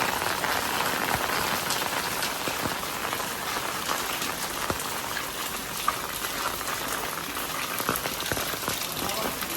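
Steady, dense rainfall pattering on nearby surfaces, a constant wash of drops with no letup.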